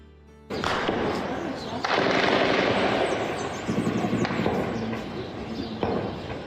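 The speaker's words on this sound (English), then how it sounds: "You can hear like automatic gunfire." Automatic gunfire outside: dense, rapid, crackling bursts that go on almost without pause, sounding somewhat distant and muffled, while people talk over the noise.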